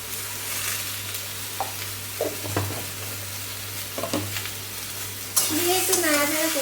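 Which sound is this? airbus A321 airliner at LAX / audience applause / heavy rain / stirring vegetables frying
stirring vegetables frying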